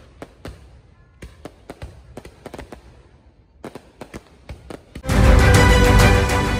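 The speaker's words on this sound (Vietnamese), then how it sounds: "Màn bắn pháo hoa kéo dài 15 phút từ 21 giờ đến 21 giờ 15 tối 30 tháng 4." Fireworks burst over Ho Chi Minh City during a public display, with a string of sharp scattered pops and bangs that gives way to a loud, dense roar of rapid explosions near the end.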